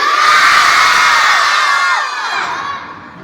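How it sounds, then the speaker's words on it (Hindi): A group of children shout together loudly on command at a school safety session, a sustained crowd yell that holds steady and then trails off near the end. "चलो चिल्ला के दिखाओ एक बार सभी"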